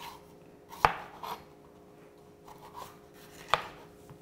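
A knife chops vegetables on a cutting board in a few sparse, sharp knocks, with quiet scraping between them, heard close with no talk.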